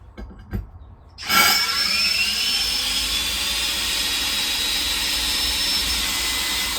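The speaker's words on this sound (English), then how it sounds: "we'll put a small pilot hole in first, if I can get it, just to guide me in" A power drill boring a small pilot hole at close range: a couple of faint knocks, then the motor spins up sharply and holds a steady high whine with no one speaking.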